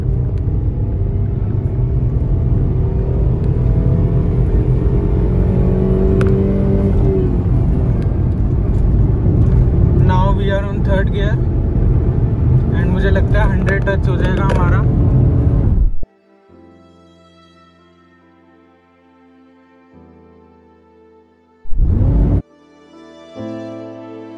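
A Tata Altroz hatchback with a 1.2-litre three-cylinder petrol engine accelerates hard in second gear on a highway, giving a loud continuous engine and road roar. The roar cuts off abruptly partway through, leaving quieter tonal sounds and brief bursts.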